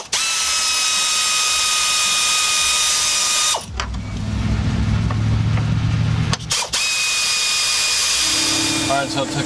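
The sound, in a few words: power tool removing 10mm bolts on Toyota V6 5VZ-FE engine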